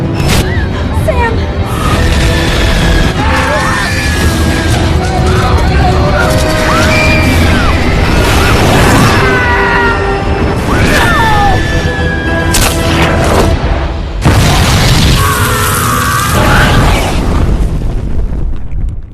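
A film scene of an airplane exploding: continuous loud booms, roaring blasts and crashing debris fill the scene, with a sudden renewed burst near the end and voices mixed into the chaos.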